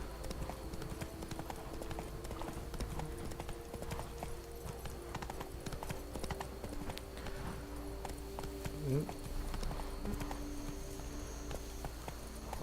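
Roach, a horse in The Witcher 3, trots with steady clip-clop hooves at moderate distance over a continuous low game ambience, with one brief tonal accent near the end.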